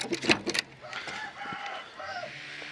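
A rooster crows at a moderate distance, its drawn-out call rising and falling twice after some sharp clucks, over faint outdoor background.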